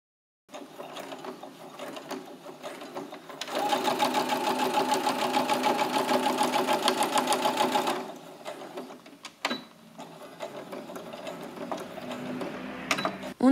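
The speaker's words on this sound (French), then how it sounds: "on vient réaliser une couture à 1 cm au niveau du repère milieu dos" A sewing machine sews a 1 cm seam on a skirt waistband, its needle chattering in a steady mechanical whir that speeds into a louder, faster run midway before easing back to a slower stitch.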